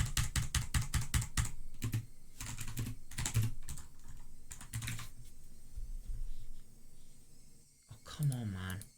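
Someone types on a computer keyboard while playing the visual novel game Higurashi: Matsuribayashi. Quick, close bursts of key clicks come in clusters with pauses between them, and a voice speaks briefly near the end.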